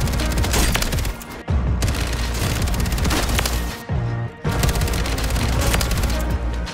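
Dense, rapid automatic fire from the FJX Horus in Warzone 3, loud and close, in sustained bursts with two short breaks between volleys.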